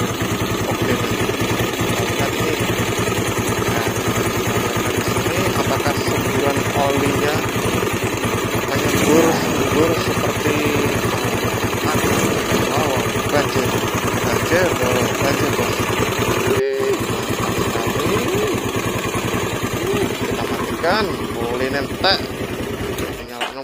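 Honda Tiger motorcycle with a modified oil pump running at a steady, loud idle throughout, a continuous throbbing engine rumble, with people talking over it.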